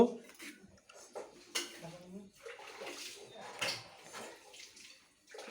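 Cooked rice is served from pots in a home kitchen, with close metallic clinks and scrapes of utensils against cookware at an irregular rhythm, while people talk quietly nearby.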